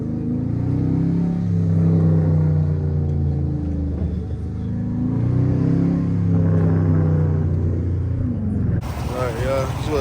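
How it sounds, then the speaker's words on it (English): A manual car with its muffler and resonator deleted revs repeatedly, a loud, raspy exhaust rising and falling in swells close by, with people talking over it. "Just let y'all hear this. This bitch wild, y'all. Just muffler and resonator delete right now"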